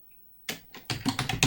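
A short burst of quick keystrokes on a computer keyboard starts after a brief silence, close and crisp, as a search is typed with no speech.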